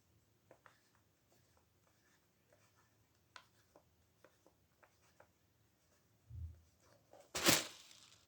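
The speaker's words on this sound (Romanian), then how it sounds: "pe această foaie de hârtie vom desena un desen. Eu voi desena o căpșună" A pen or marker scratches softly across white paper while a strawberry is being sketched, with faint intermittent strokes and small taps, ending in a couple of louder rubbing bursts near the end.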